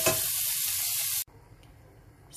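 Chickpeas and vermicelli sizzle loudly in hot olive oil for about a second as the chickpeas go in, then the sound drops abruptly to a faint, low simmering hiss.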